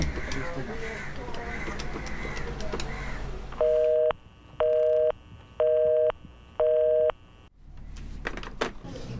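A telephone call on a landline in a domestic scene: four evenly spaced ringback tones, each a steady two-pitch burst, sound loud and clear. Voices and room noise come before them, and more talk follows.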